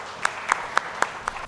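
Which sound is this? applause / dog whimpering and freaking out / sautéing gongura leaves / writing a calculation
applause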